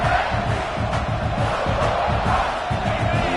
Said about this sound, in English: this home crowd is fired up and ready to make a difference today